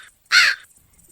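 A single loud, harsh crow caw in a cartoon, voiced from a person's throat as an imitation, standing alone and clear.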